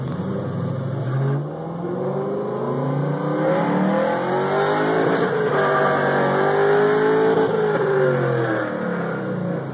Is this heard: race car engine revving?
yes